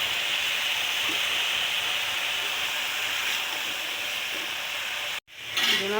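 Bottle gourd cooking in a pan for a fish-head curry gives a steady loud hiss and sizzle, with brief stirring scrapes, then a sudden cut and clatter near the end.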